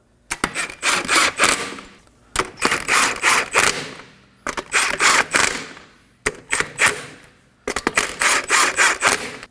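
A hand ratchet snugs the wheel lug nuts on a 2016-2020 Kia Sorento 2.4L, heard as five loud, close bursts of rapid clicking, each lasting about a second and a half, with short silent gaps between them.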